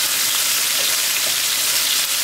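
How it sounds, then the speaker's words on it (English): Pork chops sizzle in hot coconut oil in a pan, a steady, close hiss and crackle that carries on without a break. "That's hot sizzling."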